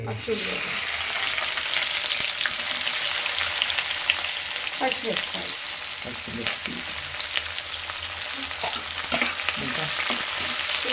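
Onions sizzling steadily in hot oil in a pan while jowar upma is being made, with occasional scrapes and stirs; the sizzle holds continuous and fairly loud throughout, with no talking.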